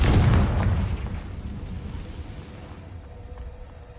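A Confringo blast spell in Hogwarts Legacy erupts as a loud, close boom that rumbles and slowly fades over several seconds.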